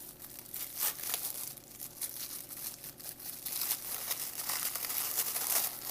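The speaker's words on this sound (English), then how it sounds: "I guess that's the foil coming off the pouch." Foil being peeled off a pouch from a 2010 HDR Humanitarian Daily Ration MRE, a faint, close crinkling and tearing that comes in irregular bursts for several seconds, with no talking.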